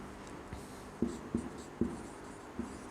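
Pen writing on paper while a Class 9 maths solution is worked out, heard as a few short, close scratchy strokes in quick succession over a quiet room background.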